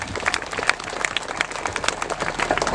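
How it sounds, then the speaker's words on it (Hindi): A church congregation at a first holy Mass in Simdega Diocese claps in thanks, a busy, uneven patter of many hands with sharp individual claps standing out close by. "तालियां बजा देंगे।"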